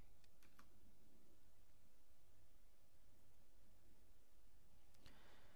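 Keys tapped on a computer keyboard while entering a search in Google Chrome, a few quick close clicks at the start and a short burst near the end, with a steady low background hum between and no talking.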